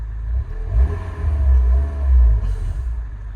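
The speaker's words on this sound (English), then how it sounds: "Give it a quick rev for you just so you can hear it." A 2007 Renault Kangoo 1.6-litre automatic van engine revs twice, deep low rumble swelling and falling back to idle, close and fairly loud, with no talking.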